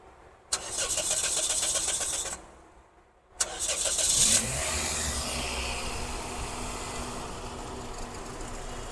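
A vehicle engine cranks and starts twice: a first start runs for about two seconds and dies, then after a pause it fires again and settles into a steady idle, close and fairly loud.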